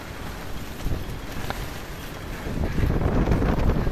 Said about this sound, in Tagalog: Kita nyo yan, ang sobrang lakas ng hangin.